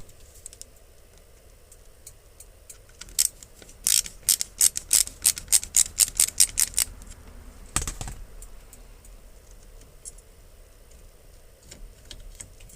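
Screws being removed from the turn signal lever on a square body truck steering column: a quick burst of close, sharp ratcheting clicks, then a louder clunk and quieter handling noises.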